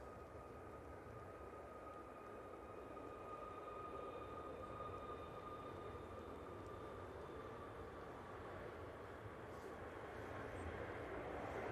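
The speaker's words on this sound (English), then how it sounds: "737 MAX on the roll." Ryanair Boeing 737 MAX on its takeoff roll at Manchester Airport, a faint, distant steady jet roar with a thin high whine that swells slightly toward the end.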